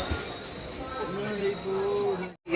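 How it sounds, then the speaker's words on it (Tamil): A crowded passenger train on the route to Velankanni starting to move, with wheels squealing in long rising and falling tones over a rumbling rolling noise, close and loud, ending in a brief drop-out. "இப்போ வந்து பார்த்தீங்கன்னா ட்ரெயின் மூவ் ஆயிடுச்சு."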